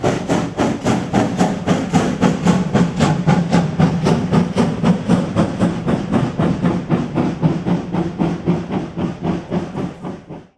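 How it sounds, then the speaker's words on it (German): A BR 52 steam locomotive, number 52 8076-7, thunders past loudly at the rear of a train, giving a steady run of rhythmic exhaust chuffs over hissing steam and rattling wheels that slowly fade toward the end. "Als Schlusslok zog mit viel Getöse die BR 52 8076-7 von Dampf Plus vorbei."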